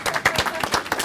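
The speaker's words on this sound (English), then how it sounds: "Round of applause." An audience at a DragonCon 2014 Teenage Mutant Ninja Turtles 30th anniversary panel claps for the panel, the individual hand claps sharp and fairly close, coming in an uneven rapid rhythm.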